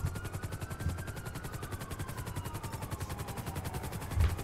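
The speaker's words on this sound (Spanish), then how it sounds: "ese helicóptero de los compañeros" Police helicopter in a video game, its rotor chopping in a steady, fast rhythm throughout, with a faint whine sweeping across and a heavier thump near the end.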